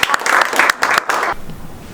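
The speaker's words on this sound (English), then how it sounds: "Okay, loud stormy applause." Loud, stormy audience applause at an evening outdoor event, several bursts of clapping and cheering for about a second and a half before stopping abruptly.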